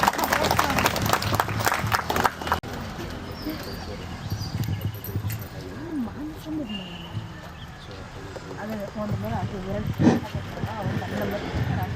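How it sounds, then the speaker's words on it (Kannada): An audience at a lucky draw prize event claps in a burst of applause, strongest at the start and then fading under talk and general crowd noise. "ಎಲ್ಲರೂ ಒಂದ್ಸಲ ಚಪ್ಪಾಳೆ ಹಿಡೀರಿ ಮೇಡಮ್ಗೆ"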